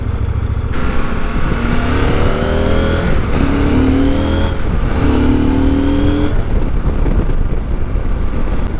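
A CF Moto 800 MT motorcycle engine revs loud and close, rising and falling in repeated surges over constant wind and road roar.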